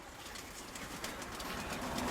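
A pigeon coos softly and at a distance, with low murmuring calls over a steady background hiss.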